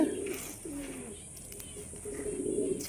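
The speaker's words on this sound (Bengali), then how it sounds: "আর পায়রা খাওয়ার জন্য ছটপট করছে" Hungry pigeons coo softly and repeatedly at close range, their low throaty calls rising and falling over faint background noise.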